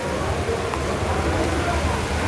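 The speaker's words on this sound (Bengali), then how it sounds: "এই যে আপনারা দেখতে পাচ্ছেন কি পরিমাণে বৃষ্টি হচ্ছে" Heavy daytime rain in Sylhet city pours as a steady, dense hiss that stays even throughout, with a voice faintly underneath.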